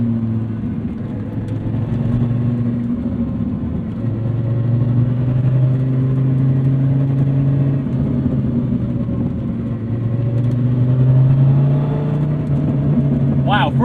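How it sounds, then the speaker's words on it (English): 2006 Dodge Viper SRT-10 coupe V10 engine heard from inside, a deep, loud rumble that swells and eases as it revs and shifts, with someone talking over it. "Clutch engagement very high. That V10 rumble, this is very American."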